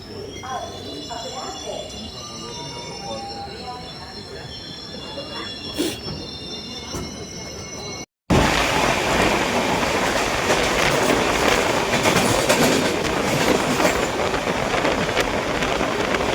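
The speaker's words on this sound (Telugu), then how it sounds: "మన ట్రైన్ అయితే చీరాలకు వచ్చింది" A passenger train pulls into Chirala station, wheels squealing and rails clattering loudly and close, with a sudden jump to a harsher, louder roar partway through.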